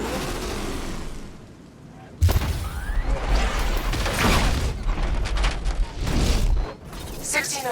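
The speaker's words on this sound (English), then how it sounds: "60mm cannon operational." Heavy booming blasts from a tank's 60mm cannon in a Batman video game, a loud burst kicking in after a quieter rumbling lead-in, followed by dense sustained explosive roar with mechanical clatter.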